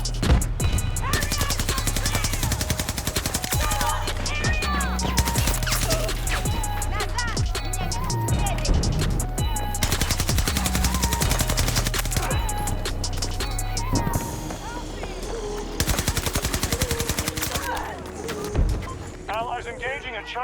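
Rapid automatic gunfire from a weapon in the video game Battlefield 2042, continuous bursts of sharp shots running almost the whole time under background music and someone talking.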